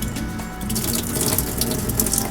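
Boiling water runs steadily through a beer keg line, pushed by steam pressure built up inside the keg, giving a continuous hissing, gushing flow like a running tap. The sound is close and fairly loud, with no talk over it.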